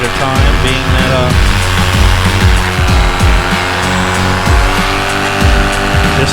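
Freshly rebuilt engine of a Viper XC RC aircraft held at full throttle in a climb, a loud, continuous buzzing whine with rising and shifting harmonics and choppy pulses, heard close and dominating throughout.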